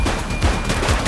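Gunfire from the police game The Precinct comes as a dense, loud rattle of rapid shots close by across the whole short stretch, with no talk over it.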